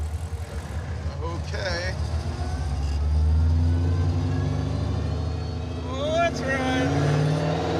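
The engine of a 1971 Chevy Suburban truck rumbles low and steady while it drives, swelling slightly as it pulls, with someone speaking briefly over the drone.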